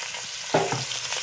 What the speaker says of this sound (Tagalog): So, unahin natin igisa yan. Ang balon-balunan.